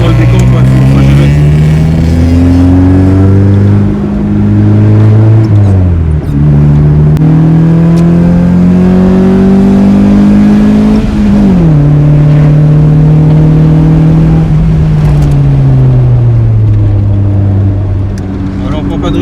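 A 1995 Honda Civic MA8 engine drones steadily while driving, its pitch rising and falling with gear changes, loud and continuous throughout.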